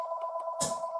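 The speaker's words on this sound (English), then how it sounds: "just ignore the phone" A telephone rings indoors with a steady electronic tone that runs the whole second, and a brief rustling burst of noise cuts in partway through.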